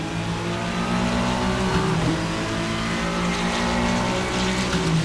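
A Ferrari 296 GT3 race car, the Furiano mod, in Assetto Corsa, its engine wailing loud and close under hard acceleration, pitch climbing and dropping through several quick gear changes.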